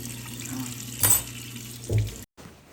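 Oysters are rinsed under a running kitchen tap, a steady close stream of water with splashy surges where shells pass through, cutting off briefly near the end.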